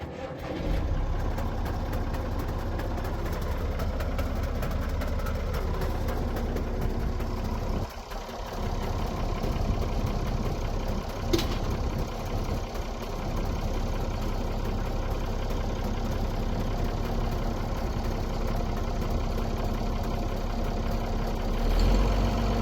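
A steady engine drones continuously at close range, low and rumbling, with a brief dip and a sharp knock partway through.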